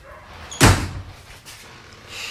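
A vintage trailer door with a red-painted finish closes with a single loud, close slam, then quiet room tone and faint movement for the rest of the moment.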